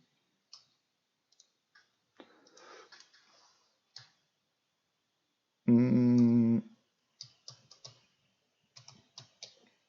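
Sparse clicks of computer keyboard keys in short irregular clusters, quiet and close, interrupted once by a loud sustained buzzing tone.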